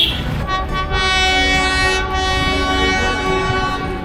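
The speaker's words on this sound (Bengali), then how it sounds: "ওই যে টয় ট্রেনটা চলে গেল" A loud, sustained horn from the Darjeeling toy train blares over the rumble and clatter as it departs Darjeeling station, heard up close.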